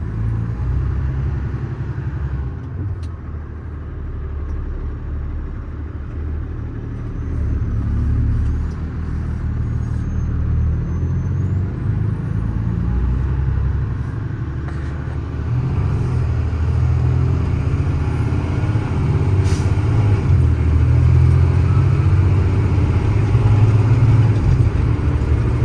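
A 2014 Freightliner M2 crane truck with a Cummins ISC engine rumbles steadily from inside the cab as it drives, a deep, continuous low drone that swells slightly at times as the exhaust brake works, with no talking.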